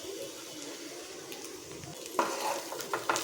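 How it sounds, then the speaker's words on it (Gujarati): Dry potato bhaji for a fasting meal is stirred in a pan, a steady scraping swish with a soft sizzle underneath and a few louder clinks and scrapes toward the end. "બધું જ આપણે સારી રીતે મિક્સ કરી લઈશું"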